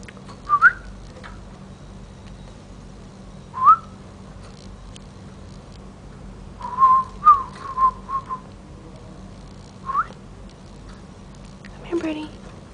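A caged pet bird lets out short, whistly cries, some single and some in quick bunches, spaced apart over a quiet room hum.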